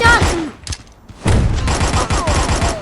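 Rapid bursts of gunfire in the shooter game Guns of Boom crackle loudly, pausing briefly before resuming in a dense volley, with excited voices talking over the shots.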